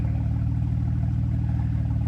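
A 2008 Jeep JK's 3.8 liter V6 rumbles at idle through a Flowmaster muffler delete, a low, even, throbbing exhaust note heard up close and alone throughout.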